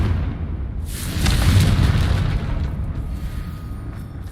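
Confringo blasting spell exploding in the game Hogwarts Legacy: a single loud, full-bodied boom that bursts in after about a second and rolls off into a lingering rumble.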